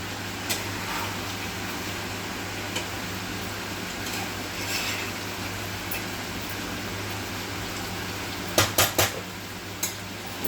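A lid clatters onto a metal cooking pot of chicken curry, a cluster of sharp clanks near the end over a steady background hum, with a lighter knock just after.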